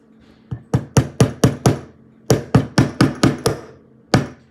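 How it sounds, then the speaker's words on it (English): A hammer gently tapping a rivet back into place on a vintage Evans lighter during restoration: two close bursts of sharp metallic taps, five and then six in steady rhythm, followed by one final tap. "we're going to just tap that rivet back into place"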